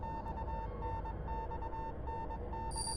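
Morse code-like beeping from the Death Mark horror visual novel on Nintendo Switch, set in a sewer: a steady electronic tone pulses on and off in an uneven rhythm over a dense low ambient rumble, with no talking.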